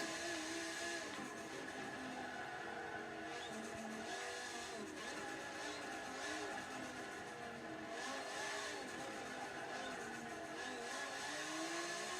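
A race car engine revs and drones continuously during a lap in Forza Motorsport 7, a steady mid-pitched roar with shifting tone and no pauses.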